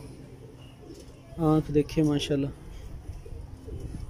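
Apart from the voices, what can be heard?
pigeon cooing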